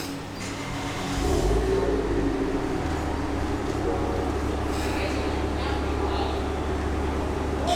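Mazda RX8 fitted with a 1JZGTE VVTI turbo engine and a deep exhaust revving up after a second, then holding a loud, low, rumbling drone close by.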